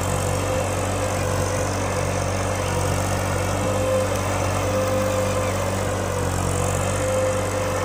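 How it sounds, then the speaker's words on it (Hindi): A New Holland 3630 tractor ploughing in 2x2 mode with its wheels slipping runs with a steady, loud, close diesel drone and constant low rumble, unbroken for the whole stretch with no voices. "भाई ट्रैक्टर स्लिप मार रहा"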